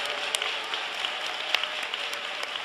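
A church congregation clapping their hands, a continuous soft patter of many claps with a few sharper individual claps standing out, fairly distant and without speech.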